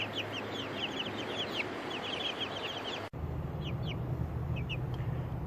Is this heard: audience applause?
no